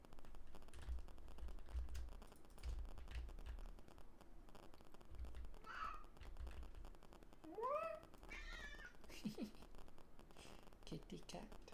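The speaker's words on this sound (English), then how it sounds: "Kitty cat." Cat meowing in the Minecraft video game, a few short rising mews midway through under a steady bed of game noise and background sounds, with a person talking nearby.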